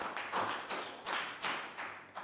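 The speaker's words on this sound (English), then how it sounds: "Big round of applause for Bangpon." A small group of students claps in a Year 3 maths classroom, giving a few slow, rhythmic rounds of claps about a third of a second apart, close and moderately loud.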